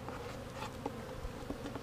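Honey bees buzz steadily at an open hive during a beekeeping inspection, a close, continuous drone with small swells as individual insects pass near.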